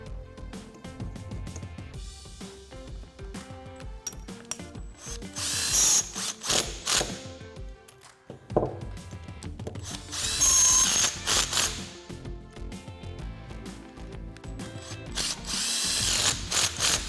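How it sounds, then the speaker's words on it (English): Impact gun whirring and ratcheting as it tightens nuts onto a spacer from a 2.50-inch front leveling kit for a RAM 1500, with repeated loud bursts of tool noise over a busy shop background. "we're gonna install them into our spacer and then tighten them up with our gun"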